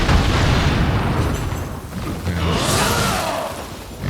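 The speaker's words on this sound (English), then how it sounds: "See if we can light him on fire." Burning burst as an enemy is set alight in the action game Nioh 2, a loud roaring whoosh and crackle that swells, dips briefly, then flares again for several seconds.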